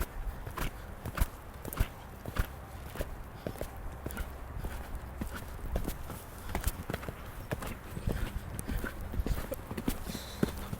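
Horse hooves clip-clopping at a steady walking rhythm during a show-jumping training session, a regular series of sharp, fairly close thuds on the ground with no talking over them.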